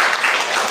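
Applause from children clapping their hands in a classroom lesson, a dense steady patter that lasts under a second without pause.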